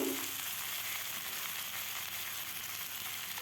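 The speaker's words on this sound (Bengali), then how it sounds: "কচুটা দিয়েও ভালোভাবে নাড়তে হবে ভালোভাবে যেন ভাজা হয়" Taro (shola kochu) and potato pieces frying in oil in a pan give a steady, dense sizzle that holds at an even level throughout, close up, with no talking.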